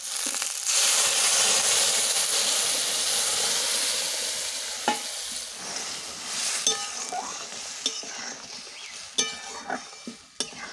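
Vegetables for a village-style vegetable dal sizzle steadily in a hot pan, then boiled lentils are added. The frying hiss softens into wetter bubbling, broken by scattered clinks and stirring knocks.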